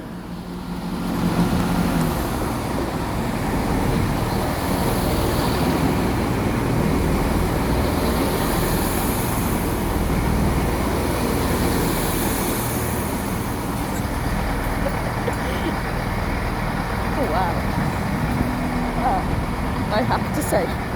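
A passenger train bound for Portsmouth Harbour pulls out of Newport station in South Wales, its steady low engine and wheel rumble filling the platform continuously and fairly close, with station ambience and occasional voices underneath.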